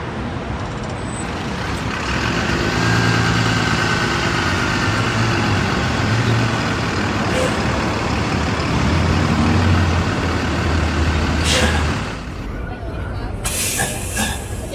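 A New Flyer Xcelsior XDE40 hybrid city bus with a Cummins B6.7 engine runs with a steady, loud, broadband drone and rumble. The sound eases off near the end.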